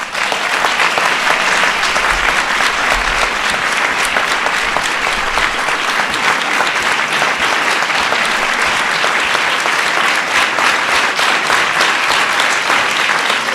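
A large audience at the Presidential Medal of Freedom ceremony breaks into sustained, dense applause honoring the 2015 winners, steady and loud for the whole stretch without pause.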